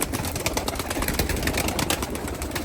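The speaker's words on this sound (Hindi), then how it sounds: "टोटल टेडी कबूतर बाहर आ चुके हैं" Teddy pigeons coo and flutter close by amid a dense, noisy wash of rustling and background hiss, the bird sounds steady and blended throughout without any talking.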